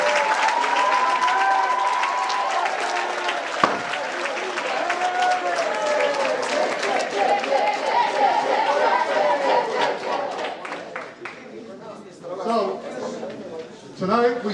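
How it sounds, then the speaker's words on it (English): An awards ceremony audience gives sustained applause, many hands clapping densely with crowd chatter underneath. The clapping thins out toward the end as a voice begins speaking over it. "So give yourselves a big round of applause."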